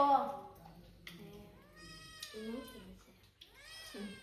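A cat meows several times up close, long rising and falling cries with short gaps between them, heard clearly over a quiet room.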